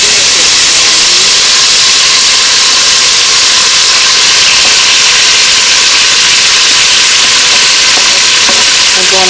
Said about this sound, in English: I'm going to let these saute up